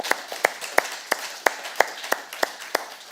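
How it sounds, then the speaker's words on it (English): Slow, evenly spaced claps, about nine sharp hits at a steady rhythm, moderately faint, acknowledging debate panelists and award winners at an alumni event. "Hands of applause for the panelists and the winners."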